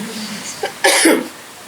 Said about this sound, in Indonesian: Ini ngomong semangat sering batuk akhirnya.